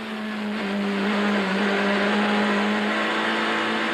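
Touring race car engines roar loudly and continuously at high revs, a steady droning whine as cars speed around the Kyalami track in 1998.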